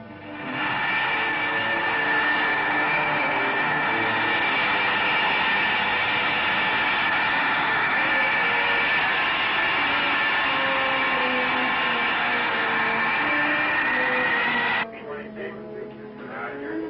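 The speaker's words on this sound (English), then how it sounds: "Uprange at Holloman Air Force Base, the drone target plane will soon leave the runway" A drone target plane at Holloman Air Force Base roars steadily on the runway before takeoff, a loud sustained engine drone with tonal whine that holds evenly, then cuts off abruptly near the end, recorded with narrow, old-film fidelity.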